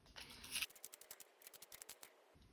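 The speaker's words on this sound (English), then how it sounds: "I'm gonna sharpen mine though" A soft 4B drawing pencil is turned in a sharpener, giving a quiet, rapid series of dry scraping clicks close by, with no talk.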